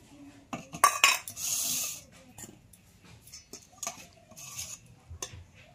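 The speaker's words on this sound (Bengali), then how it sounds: "ঝোলটা একটু বাটিতে নিয়ে নেব।" A ladle serves puti fish curry cooked with eggplant and lentil dumplings into a bowl. A few soft clinks and scrapes of metal on the dish come with a brief swishing pour, all close and fairly faint.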